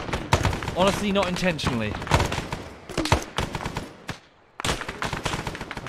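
Rifle fire with tracer rounds in the Arma 3 Vietnam setting, rapid sharp shots in bursts mixed with loud ambient battle noise, with someone talking over the shooting.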